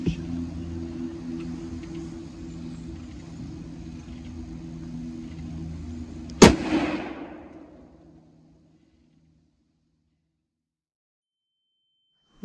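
A single sharp, loud gunshot cracks out during a 2022 deer hunt and echoes briefly over a low, steady engine-like rumble, which then fades into near silence.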